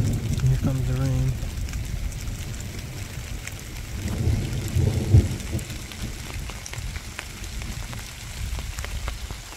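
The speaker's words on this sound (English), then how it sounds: "Here comes the rain." Rain falls steadily during a passing thunderstorm in the Hammersley Wild Area, a soft continuous patter with a low rumble, while a person talks over it at times.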